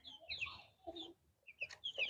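Farm chickens cluck in short, close bursts separated by brief pauses, with no talk over them.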